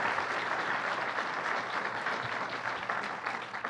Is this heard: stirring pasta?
no